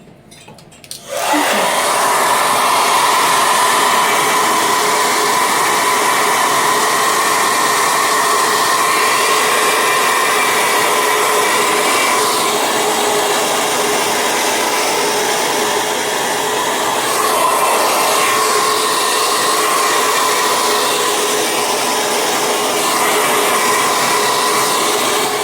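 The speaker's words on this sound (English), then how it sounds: "that's going to take a squirt of water and a little bit with the hairdryer" Hair dryer blowing on wet paint on a poinsettia Christmas card, a loud steady whooshing whine starting abruptly after a second and running continuously with no talk.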